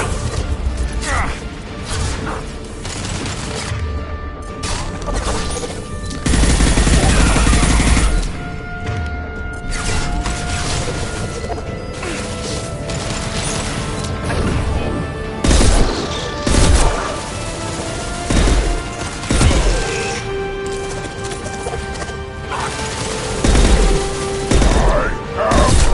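Gunfire and crashing impacts from a Mass Effect 2 firefight, with repeated loud bursts and thuds across a busy combat soundscape while voices shout over the action.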